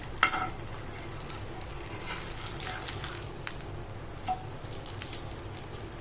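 Sprouted ragi flour adai cooking on a pan sizzles softly and steadily, with a sharp scrape and clatter early on as it is flipped, followed by a few faint taps.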